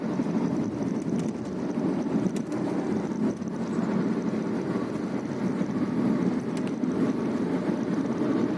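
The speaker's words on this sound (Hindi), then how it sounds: "Full on traffic." Heavy highway traffic near the Kundli border approaching Delhi rolls past as a steady, loud roar of engines and tyres, with occasional louder passing vehicles and no speech.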